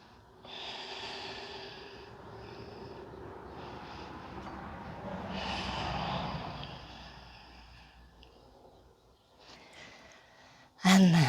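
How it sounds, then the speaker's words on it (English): Slow, deep yoga breaths taken close by, several long drawn inhales and exhales in quiet, with a sudden loud knock at the very end. "Breathe."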